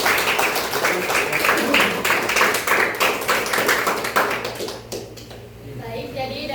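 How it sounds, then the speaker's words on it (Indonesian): Clapping from an audience at a classroom project presentation, a dense, steady patter of many hands that rings for several seconds before trailing off, with faint voices mixed in. "berikan tepuk tangan dulu."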